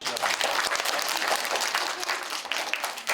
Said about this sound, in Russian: Героев любимой сказки встретили громкими овациями.